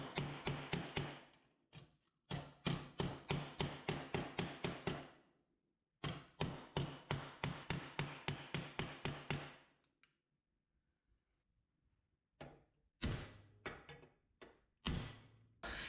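Hammer blows on a cold chisel folding and sharpening a bend in a rear brake line: fast, regular metallic strikes in two long runs, then a few short bursts after a quiet gap, close and fairly loud with no talking.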